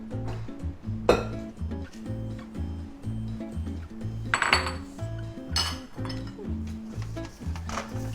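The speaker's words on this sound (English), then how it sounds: "Then we take our mixing bowl." A mixing bowl and utensils being handled while baking cookies, with repeated clinks, knocks and scrapes of metal and ceramic over a steady rhythmic low hum, close and clear, with no talk.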